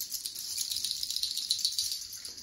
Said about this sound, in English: and this ide seed rattle